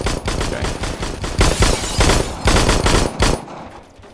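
Gunfire in Roblox Phantom Forces, loud sustained automatic bursts with rapid rhythmic reports for over three seconds before cutting off, close and dense with no talking.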